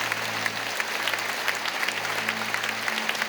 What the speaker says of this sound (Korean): 우리 성도님들 큰 박수로 환영하시기를 바랍니다.